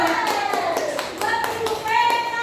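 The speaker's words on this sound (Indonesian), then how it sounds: "Tepuk tangan buat Bu." A group of teachers claps for a female teacher after her question during a training session. A short burst of clapping comes in uneven taps over a sustained tone and voices, close and fairly loud.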